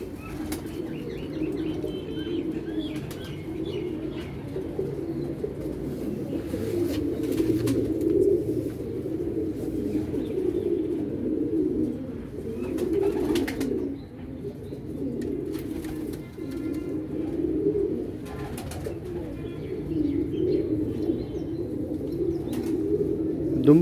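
A pigeon with peacock-like tail feathers coos in low, rolling, repeated rumbles, close by and continuous, with occasional wing flaps and small clicks mixed in.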